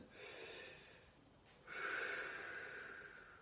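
Deep breathing during a spine workout: a slow inhale, a brief pause, then a longer, louder exhale, close and breathy with no talking.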